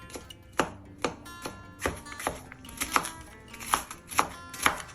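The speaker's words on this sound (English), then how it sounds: "it doesn't matter how you cut them up, just cut them up so it releases the flavor" A knife chops garlic cloves on a cutting board in a kitchen with sharp, irregular taps, roughly a dozen strokes, near and fairly clear.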